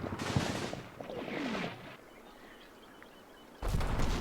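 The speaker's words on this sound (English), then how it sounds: "But now they're under machine gun fire and running into the forest." Machine gun fire in the video game Combat Mission rattles in short bursts, a distant staccato that fades into a quiet lull before another loud burst of gunfire erupts.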